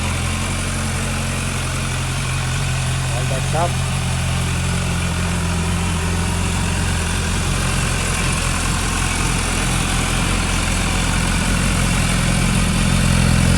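An MV Agusta F4 RR CorsaCorta motorcycle with a stock factory intake idles up close, producing a loud, steady, throbbing drone that holds evenly throughout. A brief spoken remark is barely noticeable over the engine.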